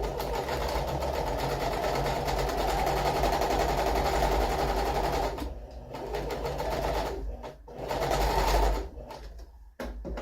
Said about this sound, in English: So one side stitched, now I'm going to stitch the other side.